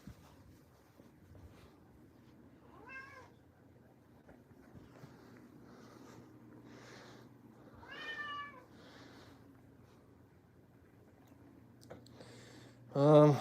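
An outdoor cat following along on a walk meows several times, drawn-out cries spaced a few seconds apart, moderately close over faint wind and footsteps, ending in one louder meow.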